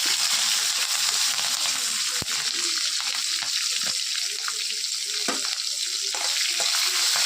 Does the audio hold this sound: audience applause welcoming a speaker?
no